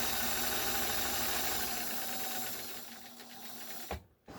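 A Bernina 730 Record sewing machine stitches at a medium stitch length with a fast, even mechanical whir. It slows and stops near the end, closing with a soft thump.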